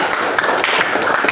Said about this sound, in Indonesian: Beri tepuk tangan dulu untuk ya.